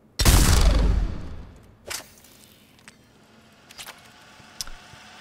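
A single heavy, booming shot from the Executioner pistol in Mass Effect 3 rings out loud and close, its tail decaying over about a second, followed by a few faint clicks and handling sounds.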